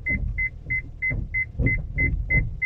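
Rear parking sensor on a Honda Pilot with a six-wire PDC sensor system sounds a warning: about eight quick double beeps at a steady rhythm, clear and fairly close over a low idling hum.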